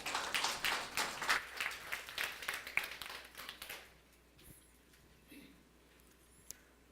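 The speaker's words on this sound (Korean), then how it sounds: "큰 박수 부탁드리겠습니다" Audience applause at a conference keynote, a burst of clapping that fades out after a few seconds into a quiet hall with a few stray taps.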